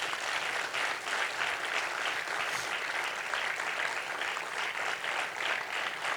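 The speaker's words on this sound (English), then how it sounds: "they truly deserve a huge round of applause." An audience at a Kathak dance show applauds steadily, a dense, even wash of clapping that holds for several seconds without pause.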